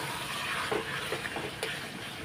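Spiced soybean curry being sautéed in a pan, a soft continuous sizzle with a few stirring scrapes, moderately close and fairly quiet.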